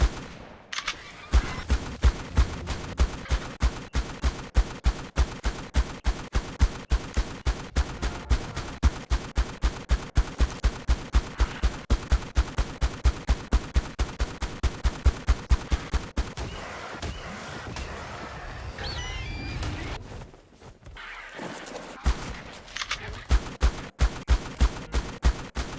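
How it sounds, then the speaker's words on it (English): Rapid gunfire from a distance at an alpha T-Rex in ARK: The Island, a long run of regular, evenly spaced loud shots that pause briefly near the twentieth second before the steady firing resumes. "After 5 minutes of shooting it from afar and awaiting more true dawns, the Alpha T-Rex fell to the ground"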